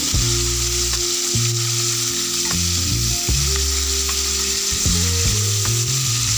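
Chicken pieces sizzle steadily in hot oil in a frying pan for an Afghan chicken dish, a loud continuous crackle broken by several thumps and scrapes as pieces are turned over, with no talking.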